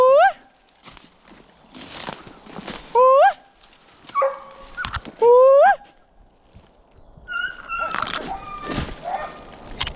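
Hunting hounds at a deer hunt give several loud, rising, howling bays in short bursts. Rustling and a bit of talk fill the spaces between them.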